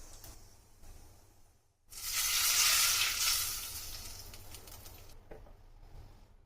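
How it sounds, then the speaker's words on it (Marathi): Hot tempering of crackled mustard seeds and cumin poured onto a raw mango and jaggery salad bursts into a loud, bright sizzle that swells quickly, peaks, then slowly fades while quiet kitchen background lingers. "आता ही फोडणी उचलून अशीच आपल्या कोशिंबीरमध्ये घालू"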